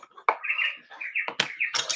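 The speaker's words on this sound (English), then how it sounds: "Love the bird sounds." Birds chirp and trill in bright, repeated bursts close to the listener during a quiet indoor colouring session, with a few sharper clicks and taps mixed in.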